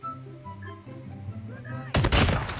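Sniper rifle fire in a first-person shooter, where a loud, dense burst of shots and impact noise breaks in near the end after a stretch of game music and effects.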